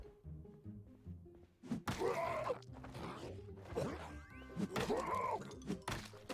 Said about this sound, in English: that was the sound of the rolling pin breaking